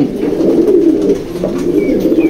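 Pigeons in a loft coo in soft, repeated throaty rolls, close and fairly loud, with no talking.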